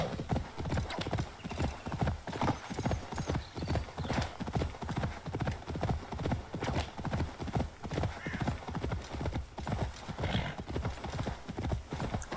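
A horse gallops in Assassin's Creed Valhalla, with a fast, even, driving rhythm of hoofbeats that runs throughout at close range, and a brief whinny mixed in.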